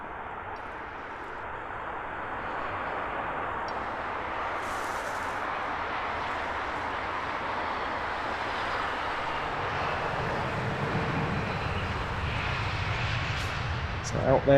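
A British Airways A320-200 in oneworld livery arrives at Heathrow from Lisbon, a steady distant jet rumble that builds gradually toward the end, with a voice talking over it.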